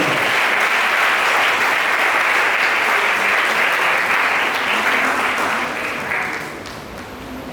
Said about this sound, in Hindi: क्या आप ताली बजा सकते हैं?